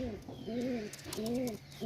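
Cooing of a Kamagar pigeon, a slate-grey show breed, with two or three rising-and-falling coo phrases repeating close by against a faint background hiss.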